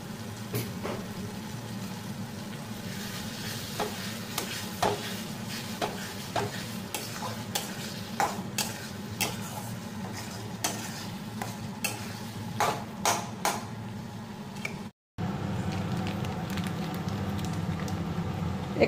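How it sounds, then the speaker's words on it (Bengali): Tomato fries in hot oil in a pan, a steady sizzle under a stirring spoon that scrapes and taps in quick, irregular strokes, close up and with no talking; a brief dropout near the end. "আমি এখানে টমেটোটা দিয়ে দিচ্ছি আর আরেকটু তেল দিয়ে দিচ্ছি।"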